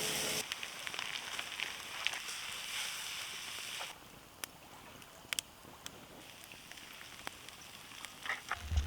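Corn tortillas crisping over an open campfire at a backcountry canoe campsite, a steady hiss and crackle of fire and frying running throughout, louder for the first few seconds, with sharp pops and snaps scattered over it.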